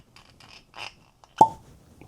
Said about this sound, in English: Oh, that was a good cork pop.